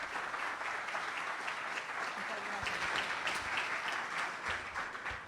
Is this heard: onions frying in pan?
no